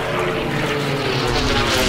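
An unlimited-class race plane roaring past at the Reno Air Races, a loud sustained propeller-engine drone filling the clip with a slight swell, a commentator's voice audible underneath.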